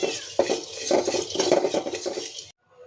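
Dried fish dry-roasted in a pan without oil: scraping and clinking of a utensil against the pan in irregular strokes for a few seconds, close and clear, then stopping abruptly.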